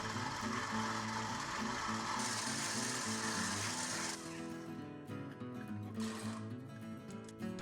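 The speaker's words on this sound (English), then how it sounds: "Now attach your dough hook and bring it all together." A stand mixer fitted with a dough hook kneads white bread dough, a steady rhythmic mechanical whirring and clacking that runs throughout, close and even, softening a little partway through.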